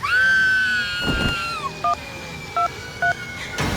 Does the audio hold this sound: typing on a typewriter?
no